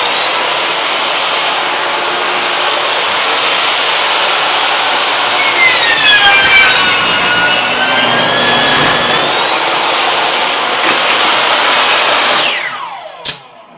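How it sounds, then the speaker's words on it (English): A sliding power saw with a pneumatic clamp cuts through a wooden fence board, the loud whining motor rising as the blade bites in mid-cut, then spinning down and stopping near the end. "pull out my sliding saw, engage the pneumatic clamp"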